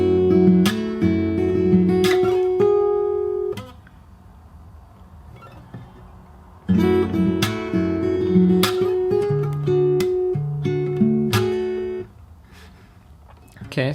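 Fingerstyle acoustic guitar plays a bar of a song, plucked notes and chords ringing clearly, played twice with a quiet pause between.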